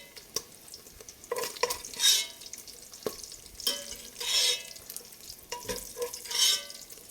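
Bacon cooks in a pan while a utensil stirs and scrapes it in irregular bursts, with a soft frying sizzle between the strokes.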